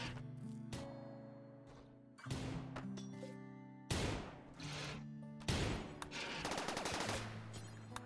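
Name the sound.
gunshots from a video game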